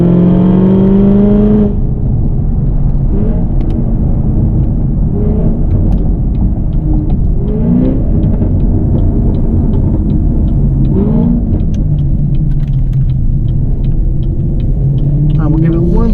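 A 2016 Cadillac CTS-V pulls hard from inside the cabin, a loud, dense engine roar and rumble building under acceleration for several seconds while a person talks over it.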